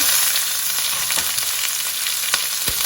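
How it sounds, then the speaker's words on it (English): Chopped onion and green pepper sizzle loudly and steadily in hot oil in a pan, with a few stirring scrapes over the constant frying hiss. "I'm just going to add the onion that we chopped up. And the green pepper."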